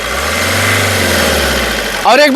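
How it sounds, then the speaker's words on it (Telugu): A 2015 Maruti Suzuki Swift Dzire VDI diesel engine idles with a steady low hum for about two seconds, fairly loud and close, before a voice cuts in at the end. "ఇంజన్ యొక్క నాయిస్ చాలా సైలెంట్గా అయితే ఉందండి"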